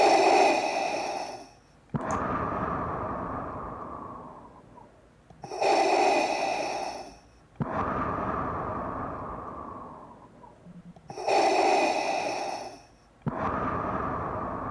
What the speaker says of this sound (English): Turn the breathing back on.